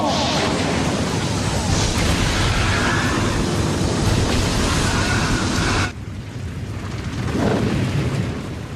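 Naruto anime fire style flame bomb attack: a dense, loud roaring blast of fiery explosions fills the first six seconds, then cuts to a quieter rumble with a brief swell, all mixed with soundtrack.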